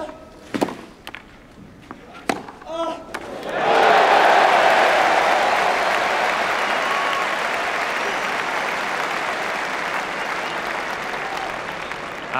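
Loud, sustained applause from a tennis crowd at Roland-Garros during a 2013 men's semi-final between Nadal and Djokovic, swelling suddenly after a few sharp knocks and holding steady for several seconds.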